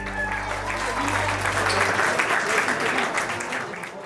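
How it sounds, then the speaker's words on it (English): Wedding guests applaud together, a dense, steady clatter of many hands at moderate distance that swells and holds for several seconds, with a low hum fading out early on. "Let's give a big round of applause there for Joey."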